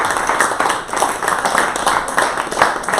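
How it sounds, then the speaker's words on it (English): A church congregation at a Unity Sunday service applauds for Steve: a dense, steady wash of many hands clapping, fairly close, swelling and dipping slightly over a few seconds. "can we do a nice big round of applause for Steve?"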